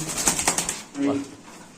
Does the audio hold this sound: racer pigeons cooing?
yes